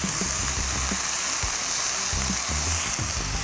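Chopped jalapeno sautes in a hot pan, giving a continuous bright sizzle and hiss with faint scattered pops and stirring clicks, close and steady, no talking.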